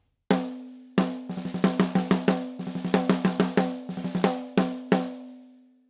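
Snare drum recorded with the microphone backed off and aimed over the rim, a brighter blend with less boom; about twenty-five crisp hits with quick bursts and single strokes, each ringing with a steady tonal decay, played alone.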